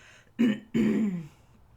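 Someone clears their throat twice in quick succession, a short rasp followed by a longer, deeper one, close and alone in a quiet room.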